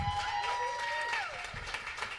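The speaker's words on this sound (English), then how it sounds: "Round of applause for David for putting this on as well." Brief applause and light cheering from an audience at a music showcase for local artists, moderate clapping that thins out toward the end, with a faint whistle-like tone over it.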